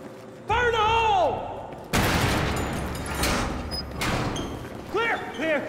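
An explosive breach blows open a gate in the Battlefield 3 single-player mission Operation Guillotine, a loud close boom with gunfire-like crackle and rumble following, after a voice shout beforehand and further talk and bursts afterward.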